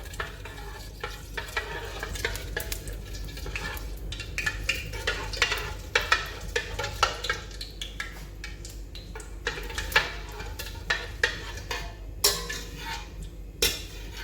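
Mutton frying in a cup of oil in a pot while being stirred, with constant sizzling and a busy run of metal spoon scrapes and clanks, close by, and no speech.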